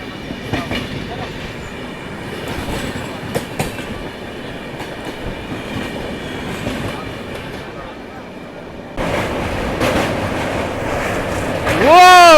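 Vivek Express sleeper train behind a WAP7 electric locomotive runs steadily along the rails with a continuous rumbling roar, growing louder and brighter toward the end as another sound sweeps in close, with no clear talk.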